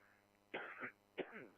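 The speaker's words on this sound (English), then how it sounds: "I had a little cough there." Two short, close coughs, one after the other with a brief gap between them, over a quiet background hum.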